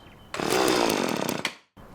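A chainsaw in a survival roleplay video game roars loudly for over a second, then cuts off abruptly with a brief sputter before falling silent.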